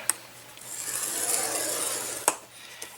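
Paper being scored with a bone folder along a groove of a scoreboard, a steady dry rasping scrape lasting a couple of seconds, close and fairly quiet, with a sharp tap near the end.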